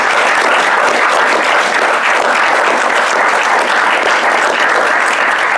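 Audience applause fills an indoor space at a cycling company's headquarters, steady and dense clapping from a sizeable crowd, loud and continuous throughout with no voices over it.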